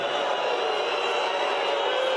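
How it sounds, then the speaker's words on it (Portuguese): A crowd of about 12,000 São Paulo supporters boos their own club in a stadium during a Campeonato Brasileiro match against Ceará. The booing is a dense, steady roar that holds at an even level throughout. "Ouçam as vaias."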